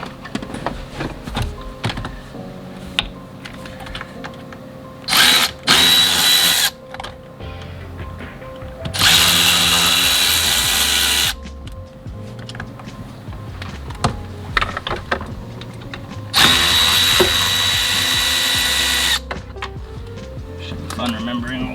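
A power driver runs in several short, loud whirring bursts while backing out Torx T20 screws on a VW shifter assembly, with bits of quieter handling noise between them.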